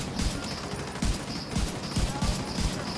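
Gunfire in the video game The Division 2, a rapid series of sharp shots in short irregular bursts, fairly close, with game ambience underneath.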